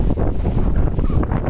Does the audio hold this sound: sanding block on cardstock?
no